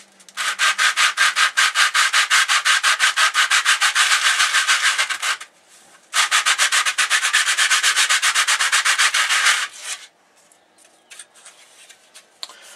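Sandpaper rubbed briskly back and forth over a Miniart Crossroads diorama base, a dense, steady scratchy rasp in two long close bursts separated by a short pause, then a few lighter scrapes trailing off.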